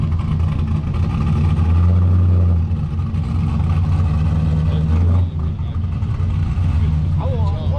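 A turbocharged car with side exhaust revving nearby, a loud engine roar rising and falling under people talking.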